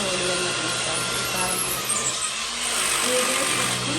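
Power drill boring holes into a house wall for termite chemical treatment, a continuous loud, close grinding whine running through the whole stretch without pause.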